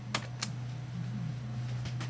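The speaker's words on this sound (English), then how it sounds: "I like to use Control-Shift-Escape on the keyboard." Computer keyboard keys pressed in a quick shortcut combination, two sharp clicks close together near the start and a couple more toward the end over a steady fan hum.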